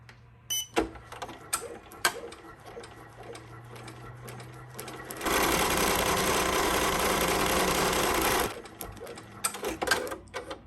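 An embroidery machine sews an applique placement stitch, a steady dense mechanical whirr lasting about three seconds in the middle, with quieter machine clicks and movement before and after.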